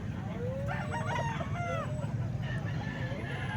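Roosters and hens at a market in Calumpit, with crowing calls rising over steady clucking and general crowd murmur, the birds fairly close and loud throughout.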